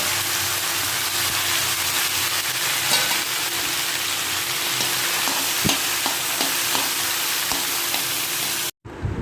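Chopped okra with green chilli and garlic frying in a pan, a loud, steady close sizzle with occasional light stirring clicks throughout, cutting out just before the end.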